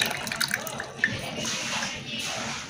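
Boiled butterfly pea flower tea is poured through a strainer, a close, steady watery trickle and splash with a few brief drips and clinks near the start.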